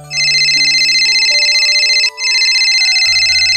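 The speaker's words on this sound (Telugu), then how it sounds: "అన్న ఫోన్ అత్తాను." A phone rings loudly and close, a continuous electronic ringtone that pauses once for a moment and then resumes, heard alone with no talking.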